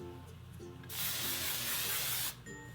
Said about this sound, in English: Add some texture spray to both sides.